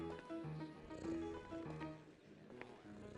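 An in-game cat in GTA V Online purring softly, a low rumbling purr lasting a few seconds beneath tonal game sounds.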